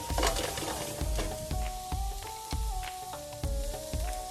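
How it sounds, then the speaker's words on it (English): Onions frying in a pan for Persian spinach borani, a steady sizzle with repeated stirring scrapes and light clatter throughout. "You want to cook the onions until they're slightly golden color."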